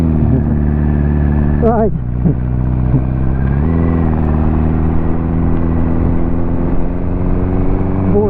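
Inside a car still running with an unfixed engine misfire, a loud, close engine drone rises and falls in pitch while driving, with a voice briefly speaking.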